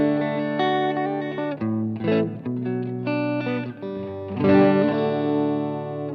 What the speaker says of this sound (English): That's a Strymon reverb going into that